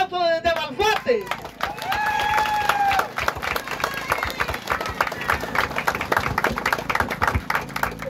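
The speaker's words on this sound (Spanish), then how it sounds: "le vamos a dar un fuerte aplauso desde Barfate" Applause from a crowd at a political event, with dense, steady clapping over cheering and crowd noise, following a brief burst of voices at the start.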